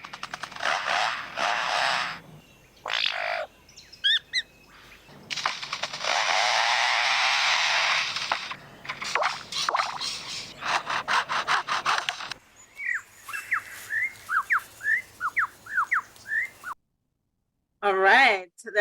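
Foresters' chainsaws working nearby, mimicked by a bird: bursts of rasping, buzzing saw noise in on-and-off runs, followed by whistled bird calls and short gaps of silence.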